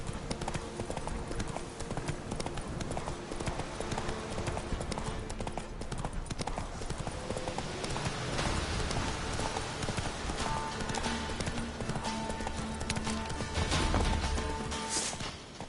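Hooves of the horse Roach galloping in the video game Witcher 3, a rapid continuous clip-clop rhythm running throughout at close range over game ambience and music.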